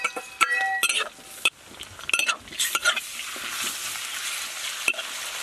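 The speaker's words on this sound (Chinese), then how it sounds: "倒入姜蒜继续炒" Ginger and garlic are stir-fried in a wok for twice-cooked pork, with a bright sizzle broken by repeated metallic clinks and scrapes of the spatula against the wok, close and busy.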